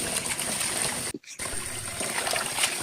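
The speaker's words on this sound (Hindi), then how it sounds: "बथुआ को मैं धो कर 2-3 बार से निकाल लेती हूँ पानी में, और पानी की मात्रा थोड़ा ज़्यादा ले रही हूँ।" Running water trickles and splashes steadily while bathua, fenugreek and spinach greens are washed in a kitchen, close and continuous with one brief pause, no talking.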